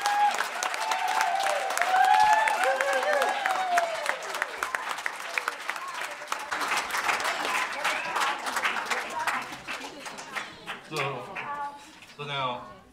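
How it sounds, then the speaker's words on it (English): Audience applause after a children's stable play, dense clapping for about ten seconds with a few excited voices and cheers, then thinning out toward the end. "Yes, you may clap."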